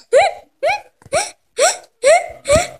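A voice imitates hiccups, six separate hiccup-like gasps in a steady rhythm, close and clear, each a short rising vocal squeak, in a story about a ghostly sound heard at night in a bedroom.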